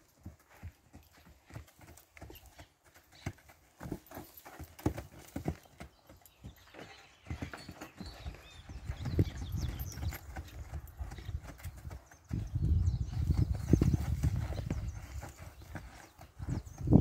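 Hooves of a horse clip-clop in a steady walking rhythm, close and fairly clear, growing heavier and busier toward the end of the clip.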